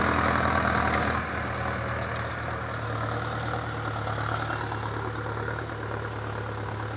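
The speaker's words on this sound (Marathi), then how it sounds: "महिंद्राचा ट्रॅक्टर आहे." Steady rumble of a Mahindra Arjun 9605 tractor engine running nearby while sowing in a muddy rain-soaked field, slightly louder at first, then settling into an even idle drone without talk.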